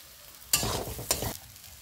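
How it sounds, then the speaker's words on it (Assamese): Vegetables coated with Maggi masala get stirred in a pan, two short bursts of scraping and sizzling close up, separated by a brief pause, with quiet in between. "মেগী মছলাখিনি মই ভালকৈ মিক্স কৰি লম"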